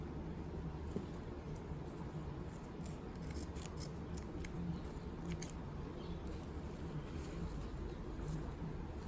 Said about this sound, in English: Trim it, trim it.